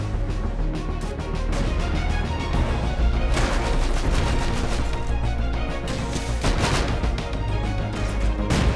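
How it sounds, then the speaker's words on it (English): Raid in the game Rust at a medieval star fort, with rockets and gunfire: loud, continuous barrage of overlapping gunshots and rocket blasts, dense and booming throughout. "try and snipe out the Rocketeers while dodging rockets like a champ"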